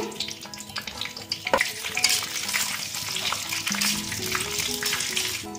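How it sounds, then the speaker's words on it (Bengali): Bay leaf, dried chilli, whole garam masala and cumin spluttering in hot mustard oil in a kadai, a close crackling sizzle with a sharp pop early on and stirring throughout. "ফোড়নে দেবো তেজপাতা, শুকনো লঙ্কা, গোটা গরম মশলা, দিয়ে দেবো গোটা জিরে"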